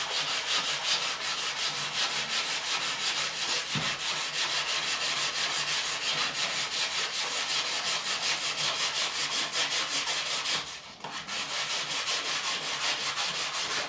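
Close, steady rubbing of 600 grit sandpaper softening the bevel edges of an Ibanez RG200 guitar neck clamped at the far end, continuous strokes with one brief pause near the end.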